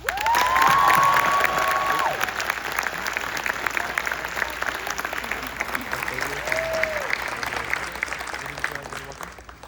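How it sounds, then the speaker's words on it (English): Graduation audience applauds the graduates with sustained, dense clapping and some cheers, loud at first and holding steady, while a voice rises briefly over the crowd near the start. "Let's give them a round of applause."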